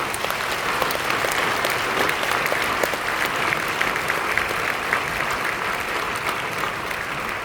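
A congregation at a church ordination ceremony applauds the new pastors' parents with steady, dense clapping that fills the hall evenly and loudly from start to finish.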